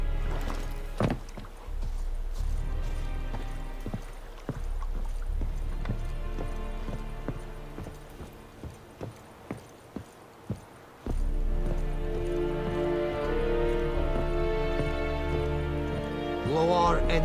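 Hooves of the horse Roach on a path in a video game, a sparse run of soft, evenly spaced clops at moderate distance, with a low ambient bed and a swell of music near the end.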